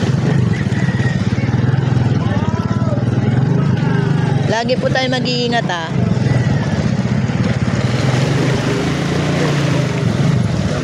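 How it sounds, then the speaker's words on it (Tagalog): A motorcycle engine runs steadily in heavy typhoon rain, its low drone mixed with a dense wash of rain noise throughout, while someone talks over it. "Makina ng motor."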